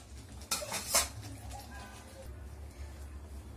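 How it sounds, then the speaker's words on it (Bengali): A lid is lifted off a cooking pan of spicy mustard-oil eel curry and the pan is taken off the stove, giving two quick metallic clanks close by over a quiet kitchen background. "এবার ঢাকনাটা খুলে দেখব। হয়ে গেছে, এবার নামিয়ে নেব।"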